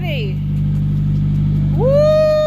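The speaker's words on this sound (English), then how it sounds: "So the engine starts already." A car engine runs steadily at a low idle with a deep, even hum, then swells briefly as it revs. A person's voice rises over it near the end.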